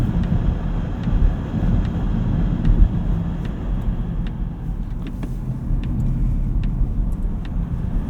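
A 2025 Polestar 3 electric SUV driving hard in sport mode with stability control off, its broad low road and wind rumble steady throughout, with faint ticks from the cabin or road above.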